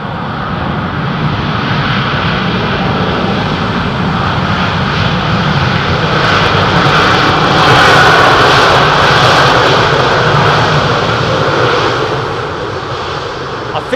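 A British Airways jet landing at London Heathrow and braking hard to vacate the runway, a loud, steady engine roar that swells near the middle and eases toward the end, heard at close range with no talk.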